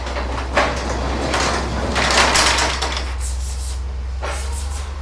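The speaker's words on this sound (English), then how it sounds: "You'll want to spray the parts as the door is manually being moved around the bend of the track." A residential garage door pushed by hand along its track around the bend, giving repeated rumbling, scraping rolls at close range over a steady low mechanical hum.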